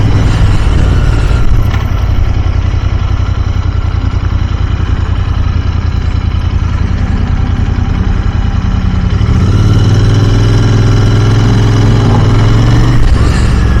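Royal Enfield Continental GT 650 running on its stock exhaust, a loud, steady, close engine rumble that shifts to a deeper, more throaty note as the revs change near the end.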